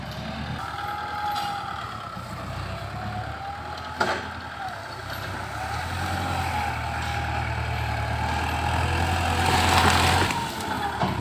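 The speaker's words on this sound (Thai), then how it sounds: "นำรถกระเรดนำรถไถมาดันดินปรับพื้นที่ให้สะอาด" A tractor pushes soil to level the grounds of a Thai temple. Its engine rumbles loudly and steadily and swells toward the end.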